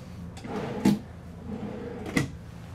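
Pull-out drawers in the living quarters of a 2024 Cimarron Norstar three-horse trailer, giving two short, fairly loud knocks about a second apart as they slide and close, with no talking.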